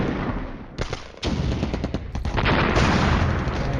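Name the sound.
artillery fire in the video game Flashpoint Campaigns: Cold War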